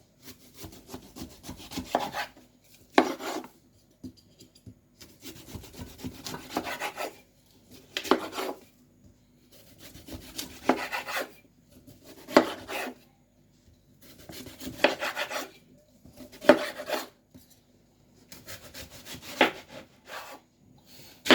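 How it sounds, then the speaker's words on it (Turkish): A knife slices through a melon in repeated rasping strokes, each a second or two long with short pauses between, close and fairly clear with no talking. "Şimdi ters çeviriyorum kavunumu ve bu şekilde dilimliyorum."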